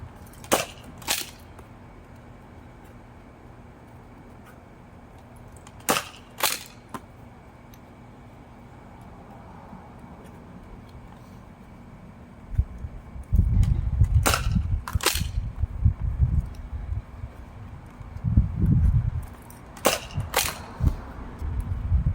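Nerf shotgun firing foam darts, heard as sharp isolated clacks in small pairs, then a denser run of quick shots over a low rumble of handling, fairly close and loud.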